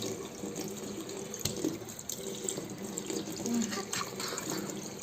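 A tap runs steadily into a sink while a child's face is washed, with splashing and clatter close by and voices briefly in the background.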